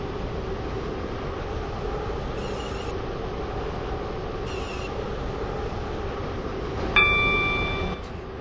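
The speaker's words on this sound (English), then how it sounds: "This train is now approaching High Street." Class 707 train in a video game running toward a station, a steady low rumble and hum throughout with a brief brighter squeal near the end, no talk.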